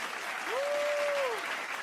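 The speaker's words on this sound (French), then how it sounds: "On applaudit très fort pour l'équipe de l'ambassadrice Rosny Kaïba, s'il vous plaît." Audience applause at an evening televised talent-show gala, a steady wash of clapping from a crowd with a faint sustained tone running through it.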